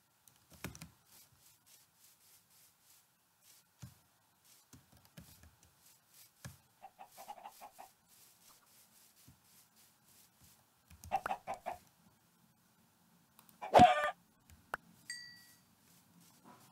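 Chicken clucks in a video game, set among keyboard and mouse clicks with a sharp loud squawk near the end, no talking.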